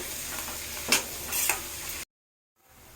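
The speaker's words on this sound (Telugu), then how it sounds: "క్యాప్సికమ్ యాడ్ చేసుకుంటున్నానండి. ఇవి ఫ్రై చేసుకోవాలి." Chopped capsicum frying in a pan for street-style egg fried rice, a loud close sizzle with a couple of stirring scrapes, then a sudden cut to silence before a faint hiss returns.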